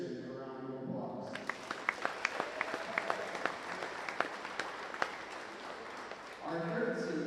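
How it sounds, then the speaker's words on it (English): Audience applause at a high school volleyball senior night, Osage against Nashua-Plainfield, fills a gym crowd with steady clapping and sharp individual claps for about five seconds, framed by an announcer talking before and after. "Let's give Kirsten a round of applause."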